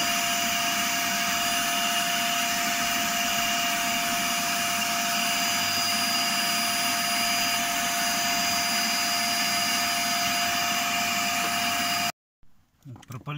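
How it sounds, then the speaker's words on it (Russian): A vacuum cleaner fitted with a homemade hose nozzle runs loud and steady with a whining drone, cleaning around a Great Wall Hover H3 fuel pump area, then abruptly cuts off and winds down near the end. "Сейчас буду пылесосить."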